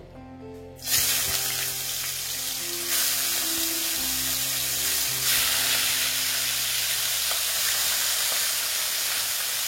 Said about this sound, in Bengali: এই মাছটা আমি ভেজে নেব।